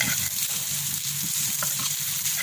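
Rice stir-fried with garlic in a pan, giving a continuous close sizzle with repeated soft scraping and tossing strokes of a spatula, no voices.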